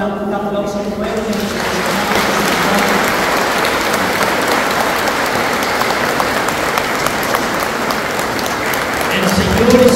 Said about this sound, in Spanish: Vamos a dar un buen aplauso al pueblo.